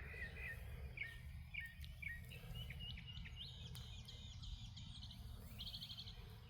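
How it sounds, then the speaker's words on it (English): Birds singing outdoors, a series of short, faint chirps and tweets repeating over steady low background rumble, with no talking. "She's feeling the bird song. It's the birds."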